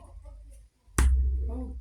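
One sharp, hollow chest slap lands after a quiet stretch, then rings on in a booming, reverberant echo that fills a stone chamber at Angkor before slowly fading.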